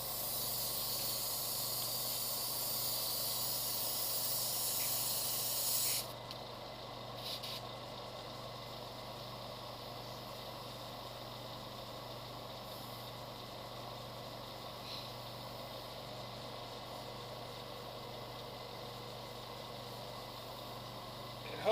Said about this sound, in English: I'm going to fire up the compressor